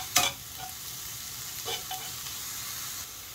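A cheese naan filling is half-cooked and spread in a pan, giving a faint, steady sizzle with a sharp scrape of stirring at the start and a few softer scrapes later.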